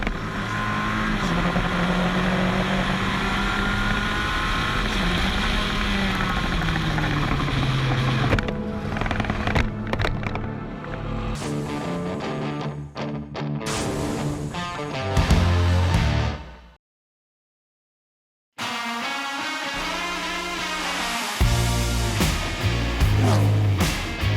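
A Formula 1600 race car engine heard from onboard, a loud steady roar with rising and falling revs through gear changes, cutting out abruptly for a couple of seconds before the engine returns.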